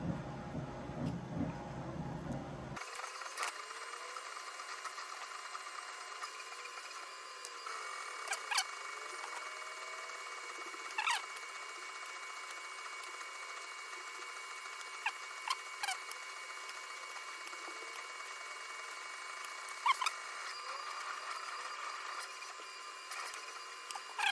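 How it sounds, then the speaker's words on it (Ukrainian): A printer runs steadily throughout, giving a continuous mechanical whir with faint periodic clicks and small ticks, fairly quiet and unaccompanied, while a LiFePO4 7Ah battery pack for a UPS is being assembled. "Поки принтер друкує"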